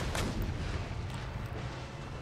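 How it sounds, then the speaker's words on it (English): Distant booming of howitzers firing on enemy artillery in an Empire: Total War battle, a dull steady rumble with soft thuds and no talking. "I think I need to keep my howitzers firing at their artillery"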